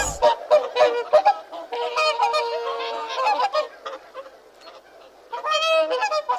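Goose honking continuously, a busy jumble of overlapping honks and calls from what sounds like several birds, moderately loud and close throughout with a brief softer lull before a strong final burst.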